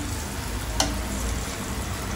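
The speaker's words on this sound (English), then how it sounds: "we'll add the chopped banana to this. And let this also fry for a while." Chopped banana fries in a pan with a steady, soft hiss of sizzling oil and one brief clink of a utensil, close and even throughout.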